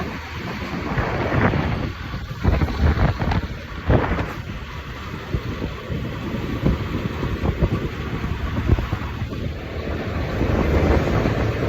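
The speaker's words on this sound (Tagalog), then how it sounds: "Masyadong mahangin." Heavy wind buffets the microphone in a constant roar, with gusty surges and a low rumble throughout, no voices.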